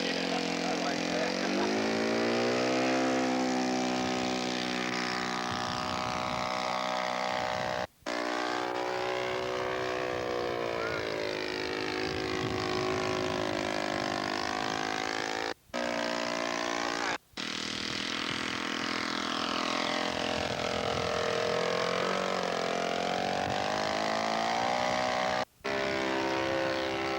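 A scale model aircraft engine drones steadily and loudly at an air show, its pitch rising and falling as the plane manoeuvres through landing passes, with a few brief dropouts.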